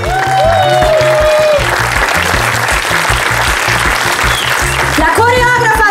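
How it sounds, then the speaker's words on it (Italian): Audience applause for the S-Dance Company dance troupe at the Miss Venice Beach 2020 beauty pageant stage in Rosolina Mare, loud and sustained throughout under a pumping bass beat, with a presenter's voice heard over it. "Ragazzi, il vostro pubblico, andate, prendetevi questo applauso!"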